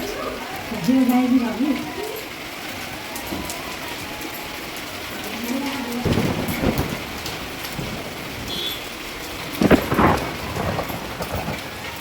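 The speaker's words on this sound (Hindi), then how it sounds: "ये देखिए अचानक से शुरू हो गई है इतनी तेज बारिश" Heavy rain pours down steadily while rolls of thunder rumble through, with a strong clap near the end, and voices talk over the storm.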